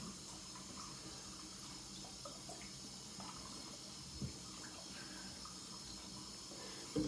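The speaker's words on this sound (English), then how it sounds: "Gonna rinse that off with cold Swedish water." Cold tap water runs steadily into a sink as a face is rinsed, a soft continuous splashing hiss with a few small splashes near the end.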